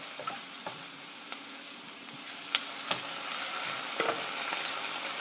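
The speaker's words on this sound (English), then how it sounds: "Fry until the onions are tender. Then mix in the tomato." Onions and tomato fry steadily in a pan with a continuous sizzle, while a spoon stirs them and gives occasional light scraping clicks against the pan. No one speaks.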